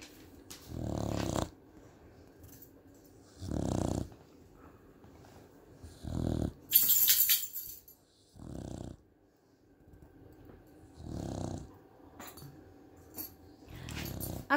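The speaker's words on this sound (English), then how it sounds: "And then I just heard the snoring." A dog snores nearby in slow, regular breaths, about six rough rumbling pulses separated by quiet pauses, with a brief jingle of keys or tags midway and no talk.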